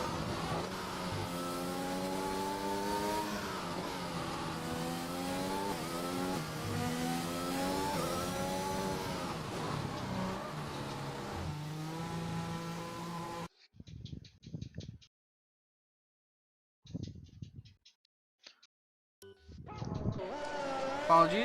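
F1 race cars on out laps around the Singapore circuit in a racing video game, engines revving and shifting loudly for about thirteen seconds, then dropping to near silence with short faint bursts before the roar returns.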